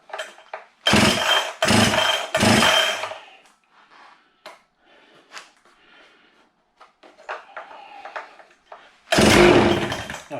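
Husqvarna chainsaw pull-started with three quick, loud, close rope pulls, followed by scattered clicks and handling noises, then a final burst as the engine nearly catches.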